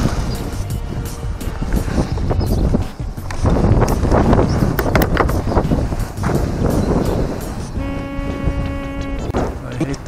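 Wind buffeting and roaring steadily while a Parrot Bebop drone is flown manually over a small town, with a continuous loud rumble and a tonal motor whine joining near the end.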